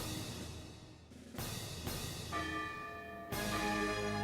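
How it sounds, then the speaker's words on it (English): Several bells ring out in succession, each strike leaving a long, resonant hum that overlaps the next, like a peal from a tower. "Bells pealed throughout the town as Cinderella was welcomed back to the castl"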